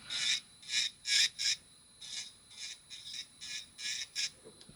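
An electric nail drill files natural nails at about 5,000 RPM, heard as a series of close, bright rasping bursts, each roughly half a second, in a steady rhythm with short pauses between them and a faint whine underneath.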